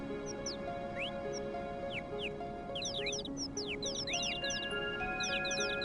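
Birds chirp in a Final Fantasy VII railway scene, quick rising tweets in scattered bursts over a sustained ambient tone and low background hum, moderately quiet and alone.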